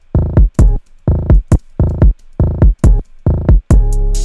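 Booming kick drum hits in quick repeating triplet groups, each cluster falling in pitch, ending on a long sustained low boom.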